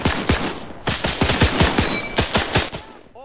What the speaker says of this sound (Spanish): Vale, delante escucho disparos